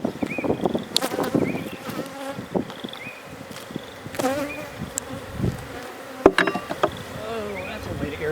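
Honey bees buzz around an opened beehive during a spring inspection, a close, continuous swarm of overlapping wingbeat drones rising and falling as individual bees pass near, with a few brief clicks and knocks.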